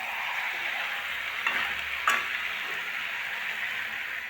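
Mutton with potatoes and a whole garlic bulb fries in a pan, making a steady, moderate sizzle with a couple of sharp spatula clicks midway.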